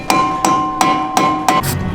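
Rubber mallet striking a rust-seized car brake part, five sharp evenly spaced blows with a brief ringing metallic tone after each, close and loud.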